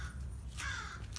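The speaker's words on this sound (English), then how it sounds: "Shut up, bird." A single crow caw, a short harsh call heard faintly at a distance against a low background rumble.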